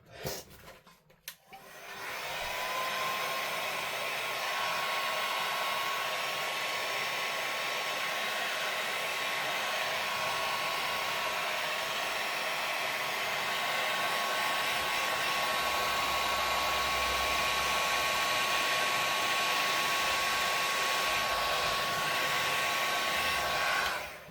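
Craft heat tool warming ink on a card, a steady loud blowing whir that starts abruptly after a brief clatter and runs continuously, close up, with no talking.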